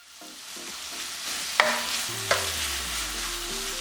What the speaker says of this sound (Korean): 중약불에 올려서 양념을 골고루 섞으면서 볶아주고